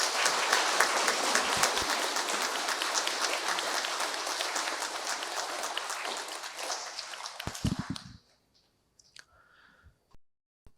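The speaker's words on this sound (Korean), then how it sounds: "큰 박수 부탁드리겠습니다" Congregation at a Korean Catholic church mass in Sydney breaks into dense, sustained applause welcoming a newly arrived nun, loud and steady for about eight seconds before stopping, followed by a few faint clicks and room noise.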